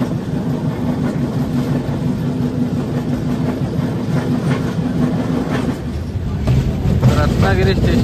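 The Konkan Railway Mandovi Express rolls along in heavy monsoon rain, a dense, steady rumble of wheels and carriage noise close by, with rhythmic clatter and a brief rise in intensity toward the end.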